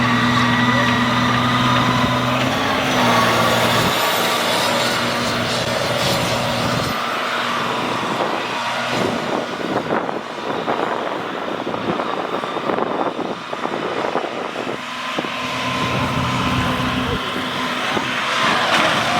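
A Cummins-swapped monster truck drives and crashes through a camper: a loud, close diesel engine roars and revs throughout, with crunching and rattling impact noise partway through, under a voice.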